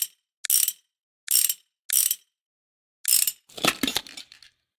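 Ratcheting wrench clicks as bolts are fastened on a bike wheel in Motorcycle Mechanic Simulator, four short separate bursts followed by a longer clattering run of mechanical clicks, crisp and close against silence.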